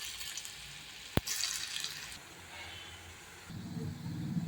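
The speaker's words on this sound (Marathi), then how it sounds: "यामध्ये आपण वड्या फ्राय करायला घालणार आहे." Coriander vadis frying in hot oil in a pan give a faint, low sizzle, with a sharp click early on and a slightly louder bubbling hiss near the end, and no voice.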